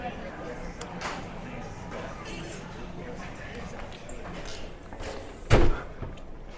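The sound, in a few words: outhouse-style bathroom door opening and closing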